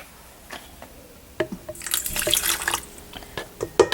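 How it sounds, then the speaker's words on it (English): Water poured into a bread dough mixture with yeast and sugar, scattered drips and splashes building to a short, louder pouring stream, then a few final drops and clatters. "Now we have to pour in the water."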